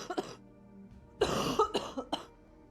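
A person who still has a lingering cough lets out several harsh, close coughs in quick bursts, with a short pause between the first cough and a rougher cluster that follows.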